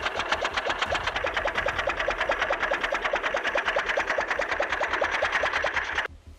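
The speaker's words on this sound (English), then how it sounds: "a basic contraption made of two bicycles side by side, chugging along with a gasoline engine." A Ford quadricycle, an early contraption of two bicycles side by side driven by a gasoline engine, chugs steadily in a fast, even rhythm of close, loud mechanical beats that stop abruptly near the end.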